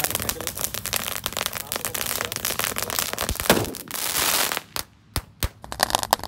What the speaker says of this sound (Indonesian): Roman candle.